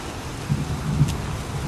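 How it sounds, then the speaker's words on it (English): Pouring rain in the video game Heavy Rain makes a steady, moderately quiet hiss with a soft low rumble underneath, and no voices. "It's pouring rain."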